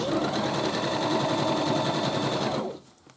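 Domestic sewing machine running a straight stitch on a cushion cover, a fast steady whirring rattle up close that stops abruptly near the end.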